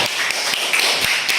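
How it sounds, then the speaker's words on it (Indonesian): Brief, light clapping in a classroom: a handful of soft, scattered taps repeating over about a second, fairly close and quiet, with no voices over it. "Tepuk tangan."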